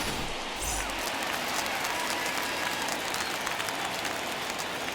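A home crowd at a baseball stadium in the MLB The Show 21 video game roars and applauds after a home run, a dense, steady wash of cheering that fills the whole stretch.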